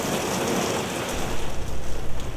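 Steady rain falls outside, a dense continuous hiss with a rumbling low undertone building toward the end, fairly loud and with no voices.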